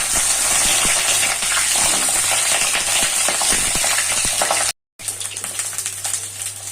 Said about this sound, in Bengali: পটলগুলো দিয়ে একটু নাড়াচাড়া করে দেবো।